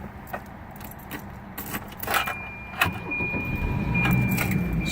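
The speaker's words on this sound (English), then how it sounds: "And I'm going to go ahead and start the car." A car with a tachometer wire fault is started by key: keys jangle near the microphone, then the engine cranks and catches, settling into a steady, close idle that fills the last seconds.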